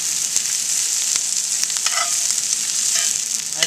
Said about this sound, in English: our steak is still cooking on the indirect heat